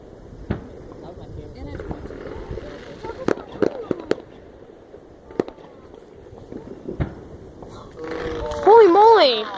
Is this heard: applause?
no